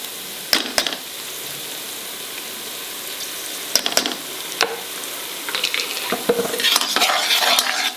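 Ginger garlic paste frying in a pan, a steady close sizzle broken by sharp scrapes and clinks of a spoon stirring against the metal, growing busier toward the end with no voices.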